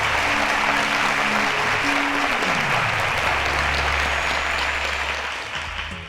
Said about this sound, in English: A round of applause, ladies and gentlemen, to Paul.